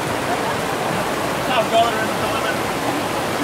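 Warm tropical downpour near waterfalls outside Da Nang, a steady loud wash of rain hiss that fills the whole clip, with someone briefly talking over it.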